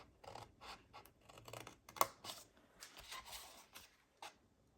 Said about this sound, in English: what you're going to do is take your scissors and cut